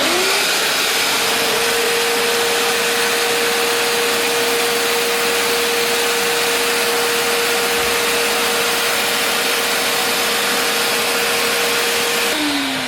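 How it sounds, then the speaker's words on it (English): A Bissell SpotClean carpet cleaner runs loud and steady with a constant motor whine and rushing suction, then cuts off at the end. "Going to switch it on, make a bit of noise, spray the area"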